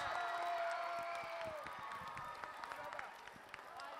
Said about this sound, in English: Give a round, big round of applause to all the performers, teachers, parents.